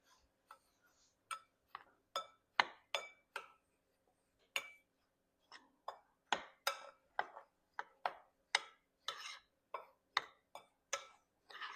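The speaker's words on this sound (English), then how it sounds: "now we're going to mix our dry ingredients" A utensil scrapes and clinks against a bowl while dry muffin ingredients for raspberry muffins are mixed, giving a steady run of light, sharp ticks and taps, close and fairly quiet.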